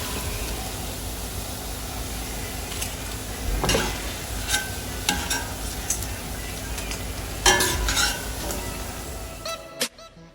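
Fried cauliflower pieces lifted out of hot oil, a low steady sizzle broken by several sharp scraping and clinking strokes of the slotted spoon against the pan, ending abruptly.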